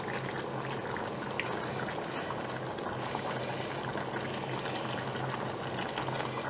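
Veal paupiettes with vegetables simmer in a pan, giving a steady, continuous bubbling hiss throughout with no pauses and no talk.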